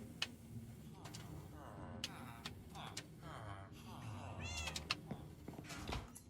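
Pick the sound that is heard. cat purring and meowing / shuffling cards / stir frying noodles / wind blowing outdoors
cat purring and meowing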